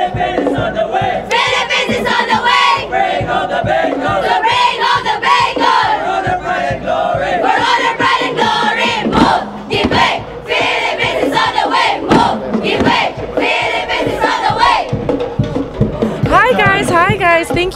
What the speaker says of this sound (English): Thank you so much for that cheer.